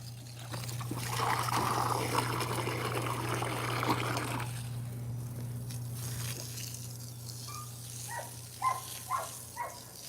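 Water trickles and pours from a garden hose in a yard with rottweilers, a steady splashing stream for about four seconds before it stops, leaving a low hum and a few short dog sounds.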